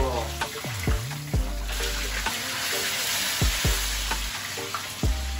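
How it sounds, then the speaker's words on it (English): Chicken frying in hot oil, a steady dense sizzle up close with occasional clinks and scrapes, and faint talk in the background. "Let that go ahead and fry real good."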